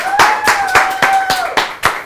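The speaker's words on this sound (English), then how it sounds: "I want to give a big warm welcome and a round of applause for Jordan Schatzberg." Small studio audience on a cooking show clapping to welcome a guest named Jordan, with distinct claps roughly every quarter second over a steady tonal hum, fairly close and moderately loud.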